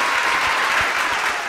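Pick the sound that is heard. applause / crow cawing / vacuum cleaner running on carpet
applause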